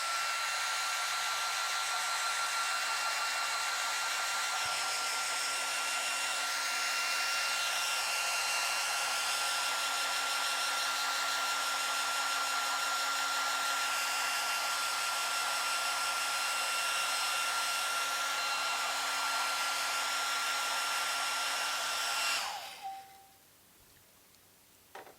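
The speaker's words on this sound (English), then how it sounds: "I'm going to take a second and dry my paper. So if you're on headphones, be warned, dryer coming" A hair dryer blows on painted paper in an art studio, a loud, steady whine with a constant hum that holds for over twenty seconds and then cuts off abruptly, leaving near silence.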